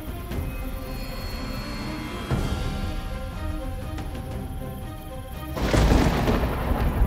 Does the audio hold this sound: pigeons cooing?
no